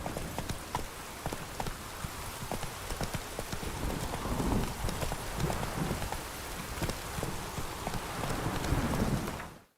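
Galloping horse hooves from The Witcher 3 in rain, a steady clip-clop rhythm that runs throughout over a wash of rainfall, fairly loud and close, with no talk.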